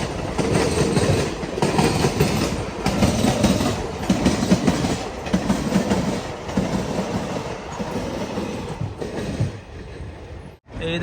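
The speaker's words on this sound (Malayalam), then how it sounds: "ഏതോ ഒരു ട്രെയിനിൻ്റെ ഷണ്ടിങ് ആണ് ഇവിടെ കാണുന്നത്" At a railway station, a train is shunted with a steady heavy rumble and rhythmic wheel clatter over the rails, continuing throughout before a brief drop near the end.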